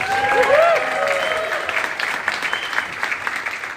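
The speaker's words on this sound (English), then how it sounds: "so give yourself a round of applause." Applause from the crowd at a Texas Democratic political meeting, sustained and fairly loud, with a voice speaking over the start and clapping carrying on alone afterward.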